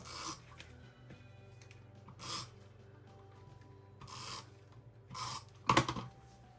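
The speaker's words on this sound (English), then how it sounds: "And we're going to get our scissor out." Scissors cutting paper during a paper piecing craft project: a handful of short, crisp snips and rustles spread out over quiet room tone, the loudest cluster near the end.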